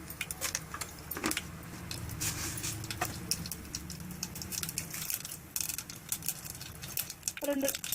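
Mustard seeds, a spoonful, sizzle and pop in hot oil for a Telugu brinjal curry, with sharp scattered crackles and clicks over a low hiss while a voice talks quietly.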